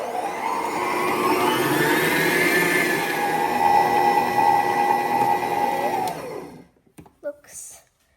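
An electric mixer whirs steadily as it blends vegan lemon icing for sugar cookies, a smooth humming drone with a rising pitch that cuts off after about six seconds, followed by a few soft clicks and handling noises.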